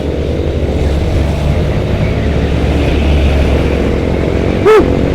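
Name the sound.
motorcycle accelerating on the road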